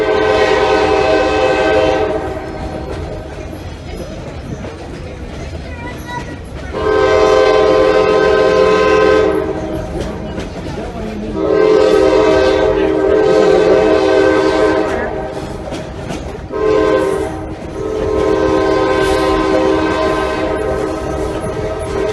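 Horn on a Blue Ridge Scenic Railway train sounding a loud signal of long blasts broken by a shorter one, with rolling rail noise beneath it between the blasts.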